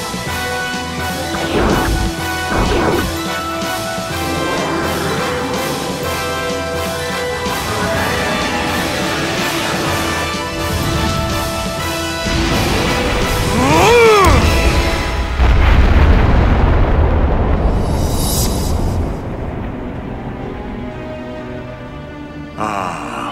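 Missile explosions rumble in a Wild Arms 4 video game cutscene: repeated booms and pops build over rapid rhythmic impacts, ending in a large roaring blast with sweeping tones and game music.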